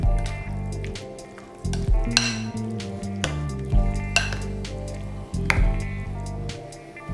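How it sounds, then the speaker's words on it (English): Seasoned bread-sandwich filling being stirred in a pan, a series of sharp scraping and tapping strokes over a low sizzle, with a steady tonal drone underneath and no talking. "Now let us mix it."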